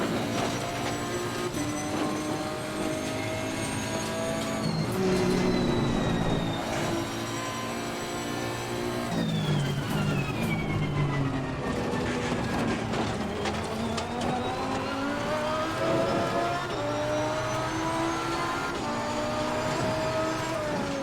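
Race car engines in Assetto Corsa Competizione at Oulton Park, a loud continuous drone with rising and falling gear-change pitch sweeps as cars accelerate and shift, several engines layered together with no talking.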